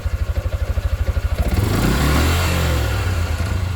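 A Jupiter MX motorcycle engine close by, first idling with a fast, even pulsing thump, then revved into a loud, rising, rough roar that holds high.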